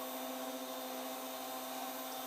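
A BLTouch-equipped 3D printer homes its axes toward the end stops, producing a steady, close stepper-motor whine and hum that holds evenly throughout without pauses.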